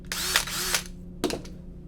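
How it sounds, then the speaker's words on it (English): A handheld power drill whirs in three short, loud, close bursts, the first two longer and the last brief, with silence between and no talk. "a power drill"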